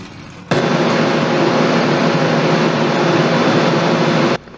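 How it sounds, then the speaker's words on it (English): Race car engines in an ARCA Series racing video game at Chicagoland Speedway fire up together into one loud, steady roar that holds for about four seconds and then cuts off abruptly. "Drivers, start your engines!"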